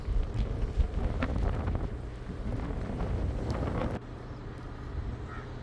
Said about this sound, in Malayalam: നല്ല ശക്തമായ കാറ്റ് ഇങ്ങനെ അടിച്ചുകൊണ്ടേയിരിക്കും കടലിൽ നിന്ന് ഈ പ്രദേശത്ത്